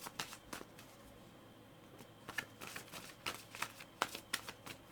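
Psychic Tarot and Oracle cards are shuffled up close, giving a quiet run of soft riffling flicks and taps in irregular bursts, with no speech.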